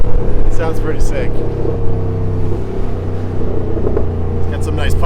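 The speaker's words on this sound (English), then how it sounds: "It's got some nice pops and gurgles." A BMW F80 M3 engine rumbles loudly up close with a steady low drone, its exhaust giving off scattered crackles and gurgles, while a person talks over it.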